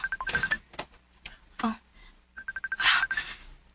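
Cellphone keypad tones beep in two quick bursts of short, evenly spaced presses, close and clear, separated by breathy rustling and soft vocal noises.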